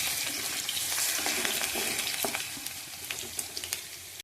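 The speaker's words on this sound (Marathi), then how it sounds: "हा असा मस्त लाल होईपर्यंत बटाटा भाजून घ्यायचा" Potatoes fry in a pan with a dense, close sizzle that slowly thins out, broken by scattered stirring taps and pops.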